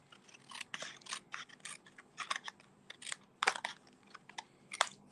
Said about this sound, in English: I'm simply going to take my snips